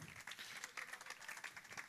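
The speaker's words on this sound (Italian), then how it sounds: "Grazie, un applauso." Audience applause at an outdoor summer event in Marineo, a brief burst of many hands clapping at a moderate distance, steady and fairly soft throughout.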